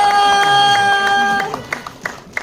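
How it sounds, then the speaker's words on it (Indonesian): Audience clapping at a film press conference comes in as a few scattered, sharp claps near the end, after a tonal musical passage with sustained notes dominates the first part. "Tepuk tangan buat Kak Selin."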